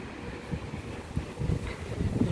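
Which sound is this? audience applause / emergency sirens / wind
wind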